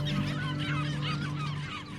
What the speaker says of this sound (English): the largest breeding ground for birds on the English mainland, including auks, gulls and puffins